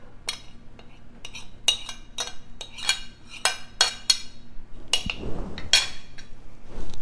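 A metal utensil clinks and scrapes around a bowl while lemon pie filling is stirred together with lemon zest, giving a run of sharp, close taps with brief pauses between.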